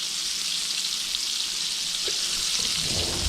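Venison tenderloin frying in a cast iron skillet, a loud, steady, close sizzle of hot oil crackling without pause, with a faint scrape near the end.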